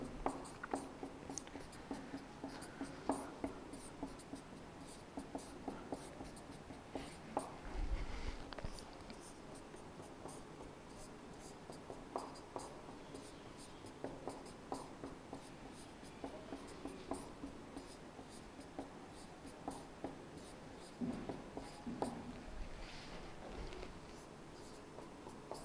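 Pen writing out probability results on paper during a tenth-grade maths lesson, a steady close scratching with short strokes and pauses, running alone throughout with a faint low background hum.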